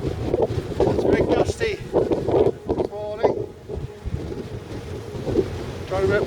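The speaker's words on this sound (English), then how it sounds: "It's very gusty." Strong gusts of wind sweep across an open ridge on the Ridgeway, buffeting the microphone in loud uneven bursts, with someone speaking briefly under the roar.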